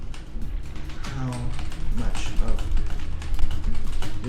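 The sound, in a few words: typing code on a computer keyboard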